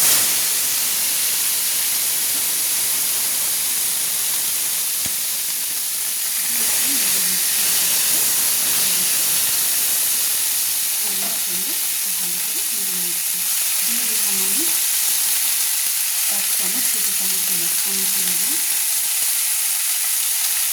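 Blanched yard-long beans fry in hot oil in a wok, a loud continuous hiss and sizzle throughout with some stirring and a voice murmuring faintly in the background.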